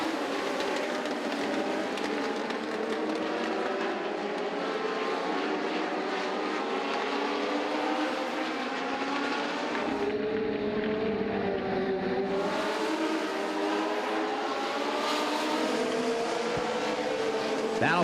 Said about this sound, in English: as the cars are going by this time